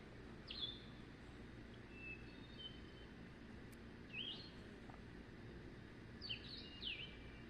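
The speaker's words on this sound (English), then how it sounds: "The birds are very, very happy out here tonight," Faint, scattered bird chirps and short calls ring out over a quiet, steady outdoor hum, a few calls at a time.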